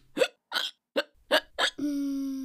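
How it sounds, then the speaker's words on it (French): Five quick hiccups, close and sharp, spaced unevenly, followed by a sustained humming tone that continues to the end. "ou avoir le hoquet"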